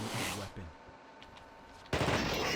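Gunfire in a video game set in Antarctica, loud bursts of rapid automatic shots at the start and again at the end, separated by a quieter gap.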